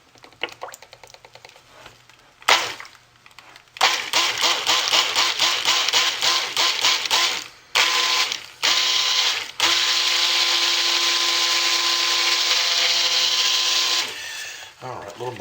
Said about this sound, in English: Alright, quick hit with the stick blender